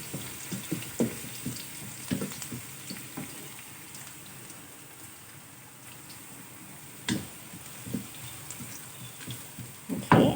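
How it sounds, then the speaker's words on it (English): Garlic frying in a pan, a steady close sizzle and crackle with scattered louder pops and spoon scrapes, continuous without talk. "we're going to cook the garlic until it turns a little golden brown."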